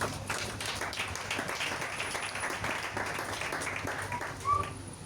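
A church congregation applauds together, a steady wash of many hands clapping at moderate loudness for several seconds, with scattered voices mixed in.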